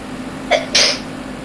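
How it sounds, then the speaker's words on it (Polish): A single sharp human sneeze, preceded by a brief sniff or intake, sounding close over a low steady background hum, with no talking. "Przepraszam, że kicham, ale jestem po chorobie i tak letką mogę czasami kichnąć."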